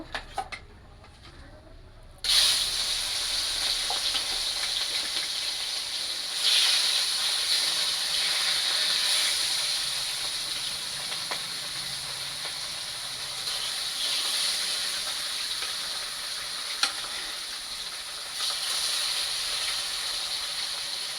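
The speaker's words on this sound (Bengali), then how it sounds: "এখন বাদ বাকি মাছগুলো এইভাবে ভেজে নেব" Rohu fish pieces frying in hot oil, a steady loud hiss and sizzle that swells at a few points and carries on without talk throughout.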